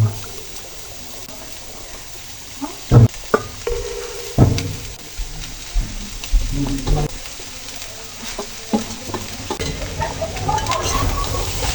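A pan of leftover rice and vegetables is stir-fried. Soft sizzling runs under several sharp scrapes and knocks of a spatula against the pan, with the stirring getting busier toward the end.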